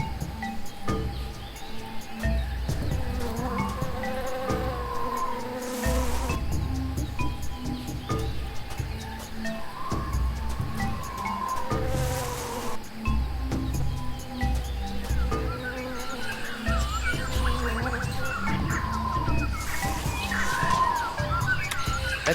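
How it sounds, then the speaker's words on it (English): Dense jungle ambience from Tales of Monkey Island, layered insect buzzing and chirping bird calls running steadily throughout at a constant loud level, with rustling beneath. "That jungle sure is noisy."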